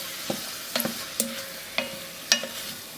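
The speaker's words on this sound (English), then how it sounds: "Giving it a good stir." A spoon knocks and scrapes through a pot of chili with tomatoes and beans, giving five or six distinct clinks and taps over a soft simmering hiss.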